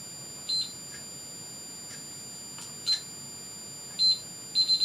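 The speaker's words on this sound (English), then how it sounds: "I have to set my timer." Kitchen-style timer being set, giving short, high electronic beeps: single chirps spaced a second or more apart, then a quick burst of three rapid beeps at the end, clear against a quiet room.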